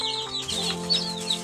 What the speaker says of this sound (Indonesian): tiba masanya saya akan kurung kembali anak ayam ini di dalam kandang ini